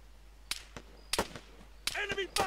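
Sharp gunshots in the military shooter Arma 3, several separate cracks spread irregularly across a couple of seconds, fairly close, with shouted voices in between.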